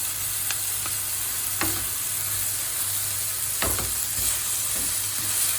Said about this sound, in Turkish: Şimdi biberlerini at atalım.